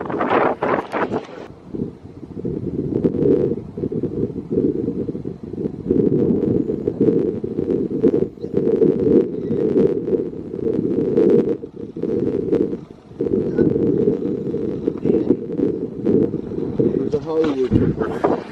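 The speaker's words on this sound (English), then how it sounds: "it's really windy" Heavy wind buffeting a microphone, a loud steady rumble with gusty bursts throughout.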